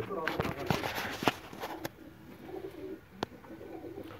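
A Sialkoti pigeon coos close by, low soft calls mixed with sharp clicks and knocks while someone talks over them.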